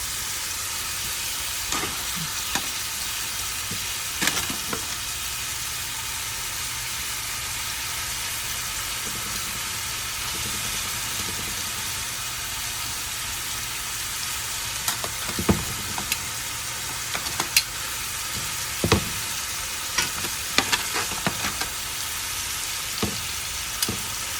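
Chicken pieces cook on a stovetop griddle over medium-high heat with a continuous, even sizzle and occasional sharp crackles and pops, steady and close with no talk.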